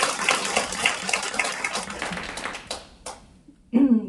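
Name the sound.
audience applause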